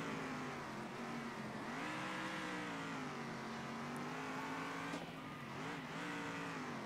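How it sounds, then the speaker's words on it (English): Race cars in Circuit Superstars, a racing video game, screech their tires through tight flat-out corners, a continuous loud engine drone with squealing tones rising and dipping over several seconds. "Tires are squealing."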